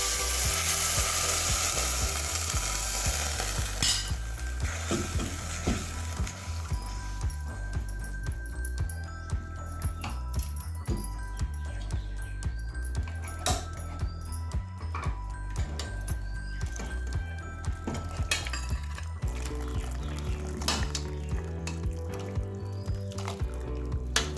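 Soup being stirred into a Hyderabadi mutton paya mixture, with continuous sizzling, bubbling liquid and repeated spoon scrapes against the pot, steady and close throughout.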